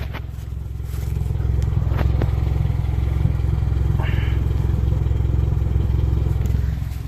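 A 2016 Mitsubishi Outlander with a muffler delete gives a loud, steady exhaust drone at idle from close range, with a few light clatters on top.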